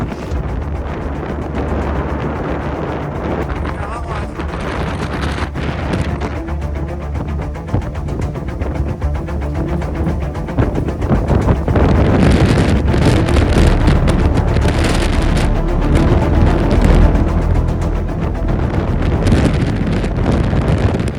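Strong wind blowing in the Slovenian Alps: a loud, continuous roaring buffet against the microphone, with rumbling gusts that swell louder in the second half, no voices.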